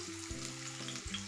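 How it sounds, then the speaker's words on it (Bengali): Garlic frying in hot oil in a wok, a steady close sizzle with a soft low hum underneath, no talking. "কড়াতে তেল দিলাম, তেলটা গরম হোক, দিলাম রসুনটা।"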